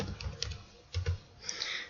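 Typing on a computer keyboard while entering a recipe, a close series of soft, irregular key taps in a quiet room.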